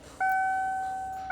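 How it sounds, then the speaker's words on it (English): A Mustang SN95 Coyote-swap control pack gives off a steady electronic beeping tone, a sustained dual-pitched whine that holds for about a second before a brief fresh onset at the end, with no talking. "Man, that noise is funky on the control pack."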